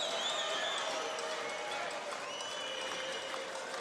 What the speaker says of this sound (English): They're cheering loud. They have their noisemakers.